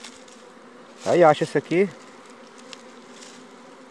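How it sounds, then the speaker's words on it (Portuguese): Bees buzz softly and continuously around a native bee nest opened in a fallen tree trunk after smoking, near a honey harvest; someone speaks briefly over the low hum. "Aí eu vou tirar essa abelha aqui."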